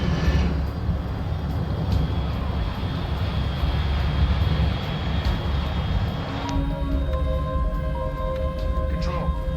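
A steady, loud aircraft engine drone from the Metal Gear Solid Delta: Snake Eater video game fills the whole stretch, with tonal whines and beeps entering near the end; a voice speaks over it at times.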